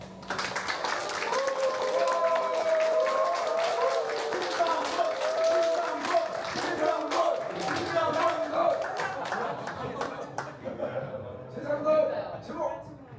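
Audience applause and clapping greet a band as they are welcomed onstage at a live show, a dense wash of hands filling the room with a voice carrying over it.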